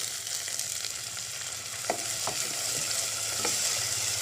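Onion masala with ginger-garlic paste fries in a pan, a steady sizzle broken by a few sharp scrapes of a spoon as it is stirred, close and alone with no voices.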